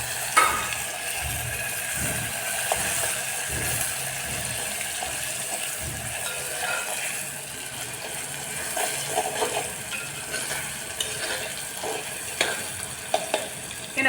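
Tomatoes, chillies and curry leaves sizzle and fry in a pan for Kathiyawadi-style udad dal, a steady crackling hiss with occasional stirring scrapes and light clinks, close and continuous.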